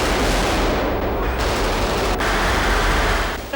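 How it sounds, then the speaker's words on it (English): Dense, continuous bursts of gunfire and explosive blasts from the 1999 Bond film The World Is Not Enough, loud and busy throughout with a brief sharp crack partway through. "All these explosions and gunfire."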